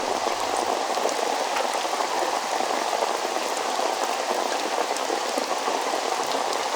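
Steady heavy rain pours down outside a small shop, a dense even hiss of drops striking surfaces without pause, loud and close, with no voices.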